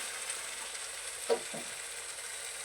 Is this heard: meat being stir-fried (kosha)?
yes